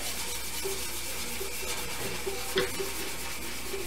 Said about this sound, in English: you want to rub the Rubio into the grain of the wood